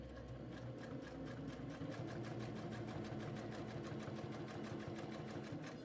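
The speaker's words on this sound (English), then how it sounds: "I'm just going to stitch right down this pink line" Sewing machine stitching a garment seam along a marked line, running steadily with a fast, even needle rhythm that stays close and moderately quiet for several seconds.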